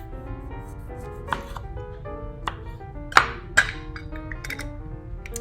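A knife slicing a washed, rolled lime in half on a cutting board, a few light knocks and one sharper chop against the board, close and fairly quiet over faint room tone.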